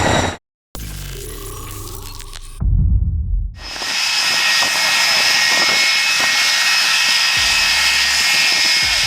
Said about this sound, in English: The MD-80's jet wash creates enough thrust to hurl loose objects and people toward the water.